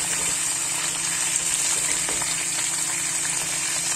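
Pork cheek browning in a hot pan gives a steady, dense sizzle and crackle that holds loud and even throughout, close up, with no voices.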